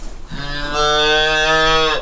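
A Valdostana Red Pied (Pezzata Rossa Valdostana) cow on a farm gives one long, loud, close moo that holds steady for over a second before cutting off, with nothing else heard.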